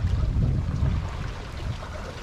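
A sailboat under way at sea off the Isle of Wight gives a continuous rush of wind and water, with low sloshing of waves against the hull close by and no talk.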